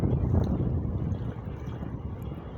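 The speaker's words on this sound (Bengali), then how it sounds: "এই যে গ্রিন লাইনের ঢেউ আসতেছে, দেখছেন কি ঢেউ, ও মারাত্মক ঢেউ।" Waves from a Green Line fast passenger boat break past a small boat on the water as a low, rumbling wash under heavy wind buffeting, loud at first and then easing slightly.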